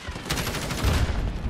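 A shotgun blast in Call of Duty Modern Warfare on the Shipment map, a short, loud burst of gunfire crowding the brief moment with a heavy low thump near the end.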